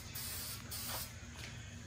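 White primer sprayed from a can onto an Infiniti G37 car, heard as a close, steady hiss with short pulsing bursts and no speech.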